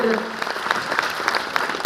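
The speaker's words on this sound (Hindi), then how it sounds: "एक बार जोरदार तालियां दोनों कलाकारों के लिए" Audience applause for two stage performers at a debate event, a burst of brisk clapping from a gathered crowd that fills the short moment, with a voice speaking briefly over its start.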